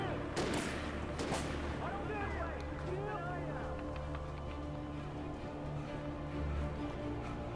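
Gunfire in the video game Alan Wake Remastered, a few quick bursts of shots early on over a dense, constant game soundscape, with someone talking throughout.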